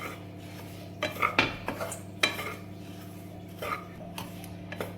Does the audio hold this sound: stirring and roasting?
yes